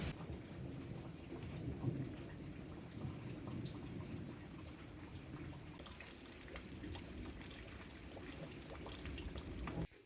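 Heavy rain pours steadily in a village, a dense continuous hiss with low rumbling thunder rolling beneath it, distant and without any voices.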